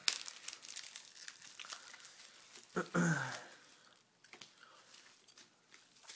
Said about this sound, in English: So, let's open up the first set of boosters.